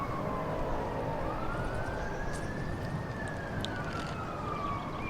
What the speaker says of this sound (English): Sirens. The sound of a city.